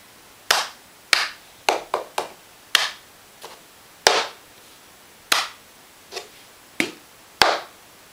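Cup song rhythm performed by hand: sharp claps alternating with quicker taps and knocks of a cup on a surface, about a dozen crisp hits in an uneven repeating pattern, close and clear with no talking.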